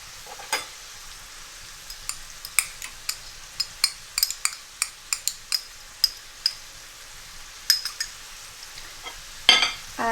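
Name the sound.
achar pickle added to a pan, sizzling and stirring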